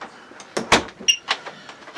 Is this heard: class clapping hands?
no